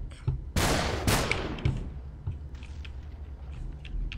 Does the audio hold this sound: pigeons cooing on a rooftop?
no